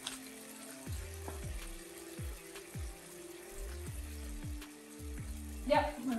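A chicken burrito skillet mixture with added water heats in a pan, giving a steady, moderate sizzle and bubbling as it comes toward a boil, with a few brief stirring or clatter sounds on top.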